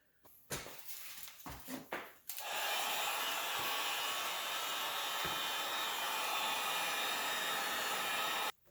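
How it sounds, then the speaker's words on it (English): A heat gun blows steadily and loudly for several seconds to shrink protective film wrapped onto the signal lens of a 1988–91 Honda Civic. A few knocks and rustles come first, and then the airflow roars alone without a break. "we're gonna heat it up now so that it kind of shrinks a little bit"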